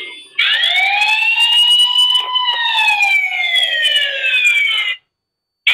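Loud electronic siren alarm from a motion-sensing CCTV camera, a sustained close wailing tone that rises quickly then slowly falls over about four and a half seconds before cutting off abruptly.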